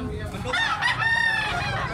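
A rooster crows at a Sunday cockfighting venue in Tabunok, Cebu, a single long harmonic call rising and holding over steady crowd murmur and nearby voices.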